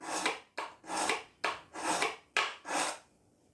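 An Any Sharp knife sharpener as a knife is pulled through it six times, alternating short scrapes with longer rasping strokes in a steady rhythm, close and clear with no talking.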